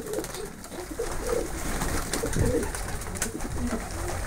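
Pigeons coo in soft low bursts while being fed, several calls scattered over a steady background of rustling and ambient noise.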